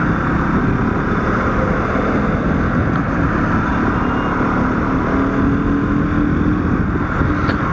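Constant loud roar of a KTM RC 125 motorcycle ridden at speed on a highway, engine hum blended with heavy wind rush, no one talking.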